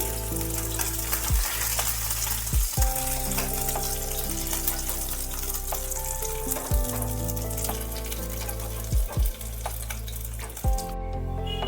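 Fish, including a katla piece, fries in hot oil with a continuous close sizzle, broken by several sharp knocks and clatters from utensils against the pan.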